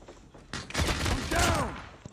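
Shotgun fire in a video game firefight, a dense burst of loud blasts and rattling gunfire packed close together with overlapping echoes over about two seconds.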